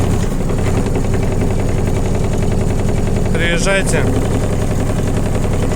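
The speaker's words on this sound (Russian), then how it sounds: "У нас, к сожалению, козыречек чуть вибрирует, но ничего страшного в этом нет." A Japanese mini excavator's engine runs at a loud, steady idle right up close, a dense constant drone throughout, while someone speaks briefly partway through.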